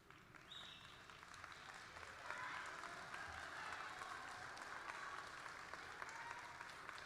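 A graduation audience at a commencement ceremony applauds in a sustained, even wash of many hands clapping, fairly distant and soft, with no voices standing out.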